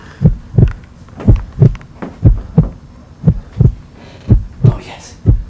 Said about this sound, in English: Heart beating hasn't stopped